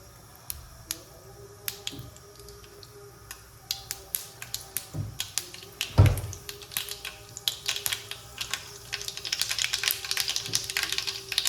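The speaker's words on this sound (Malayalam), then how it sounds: "കടുക് ഒന്ന് പൊട്ടിയിടട്ടെ" Mustard seeds popping in hot sunflower oil for a Kerala garlic pickle, sharp scattered crackles and snaps that grow denser and more frequent toward the end.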